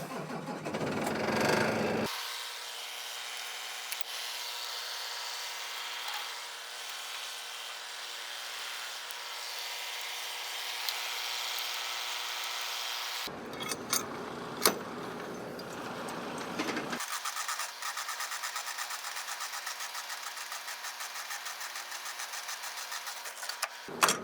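A big automatic-transmission truck hooked to a Cozad trailer for moving a large loader, its engine running steadily with a broad mechanical drone, with a short break in the middle before it resumes.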